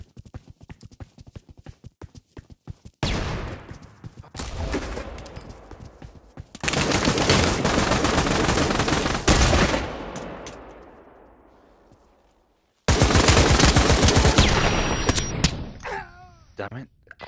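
Gunfire in the VR shooter Pavlov, with stretches of rapid automatic fire and loud sustained bursts separated by short gaps, heard close and mixed with players' voices.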